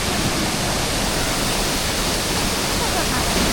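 Gabaldon Falls roars in a dense, steady rush of falling water, loud and close, filling the short stretch with constant broadband noise.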